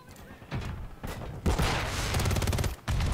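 Call of Duty Modern Warfare 3 gunfire from a WSP Swarm submachine gun, rapid automatic bursts fired close and loud, with one long sustained volley and a short break before firing resumes.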